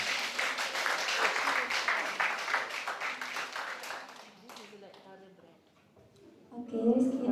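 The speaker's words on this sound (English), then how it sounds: "Please give applause for Rizky Atika Salsabila." An audience at an international public speaking workshop claps for a moderator. The applause is dense and steady, then fades out, and a voice speaks over the closing moments.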